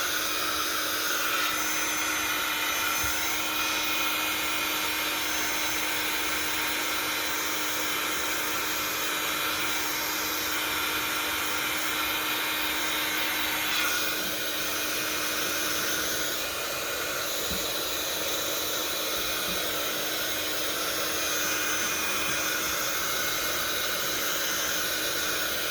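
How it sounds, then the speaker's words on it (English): A heat gun blows hot air at steady full strength for the whole stretch, a loud continuous rushing hiss with a slight shift partway through, no voices heard. "now we're going to take the heat gun, so speed it up"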